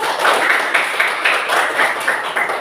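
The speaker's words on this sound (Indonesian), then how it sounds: "Tepuk tangan dulu." A classroom audience at an Indonesian-language teacher-training lesson claps together after a group presentation, a dense, steady patter of many hands lasting a few seconds with slight swells.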